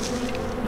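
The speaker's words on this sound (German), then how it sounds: "Wenn er sich nicht gerade da in die Fliegenschwärme reinstellt." Continuous buzzing of a fly swarm in the video game Blackguards 2, a steady droning hum holding at an even level throughout the short moment.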